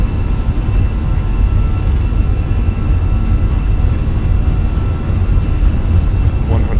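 Airbus A320 engines at takeoff power in Microsoft Flight Simulator, a constant deep roar and rumble, steady and unbroken, close and fairly loud, with no talk.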